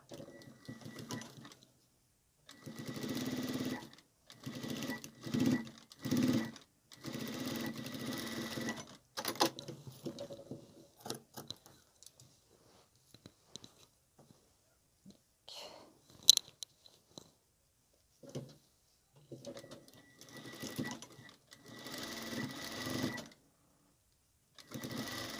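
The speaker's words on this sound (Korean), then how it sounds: "한번 쫙 박음질 해주고요" A sewing machine runs in short bursts of rapid, even stitching as lace is sewn onto a fabric waist apron. Quieter handling and rustling fill the pauses between runs.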